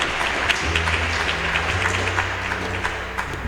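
A church congregation applauds again, a steady, fairly loud wash of many hands clapping with a low hum beneath, sustained throughout.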